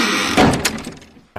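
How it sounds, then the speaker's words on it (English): The TARDIS doors swing shut with a solid thunk followed by a fading rattle, close and loud, and a second sharp knock follows right at the end. "The Doctor then closed the doors"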